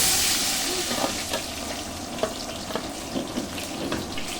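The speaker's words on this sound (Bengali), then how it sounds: "পটলগুলো বেশ লাল লাল করে ভেজে নেবেন আপনারা" Pointed gourd (potol) pieces frying in oil, a loud steady hiss with a few scrapes and taps as they are turned, close up and with no speech.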